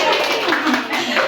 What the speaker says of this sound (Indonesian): iya Bu Koko, boleh dong kasih tepuk tangan dulu